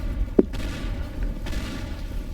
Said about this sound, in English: Big explosion.